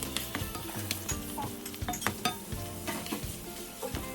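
Garlic and half a medium onion fry in a pan for stir-fried potatoes and eggs, a crackling sizzle punctuated by a utensil scraping and clinking against the pan, close up with no voices.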